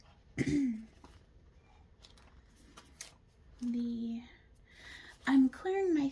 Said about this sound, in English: I'm clearing my throat a lot